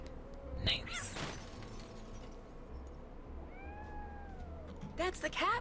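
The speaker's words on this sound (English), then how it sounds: "That's the cat Molly wants me to catch" A cat meows in a video game, several drawn-out mewing calls at moderate distance. Short sharp clattering sounds come at the start and the end, over a faint steady background.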